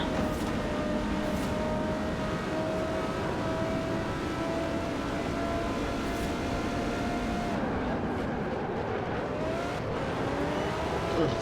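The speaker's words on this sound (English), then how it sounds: "It's a fast car whose brakes actually work." A fast car with working brakes is driven in a video game. Its engine drones continuously with rising and falling revs for about eleven seconds, fairly loud and steady throughout.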